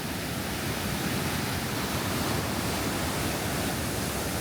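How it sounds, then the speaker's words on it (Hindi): Fresh water gushing from a cave inside a mountain and pouring down into the sea, a steady, dense broadband rush with no breaks, loud and close. "पहाड़ के अंदर से आप ये देखें पानी निकल के आ रहा है, फ्रेश वाटर।"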